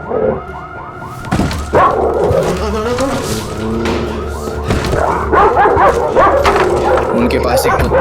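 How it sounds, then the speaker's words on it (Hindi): A dog barks in sharp bursts over a looping electronic security alarm, with people talking quickly and urgently over the noise. "उनके पास एक कुत्ता है"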